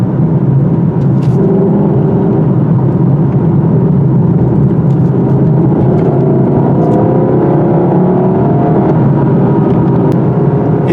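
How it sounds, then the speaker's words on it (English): A 2020 Lexus LC500 V8 drives along a backcountry road, its engine giving a loud, steady throaty drone with rising and falling pitch under continuous road and wind roar. "And the sound of that V8 can't be beat."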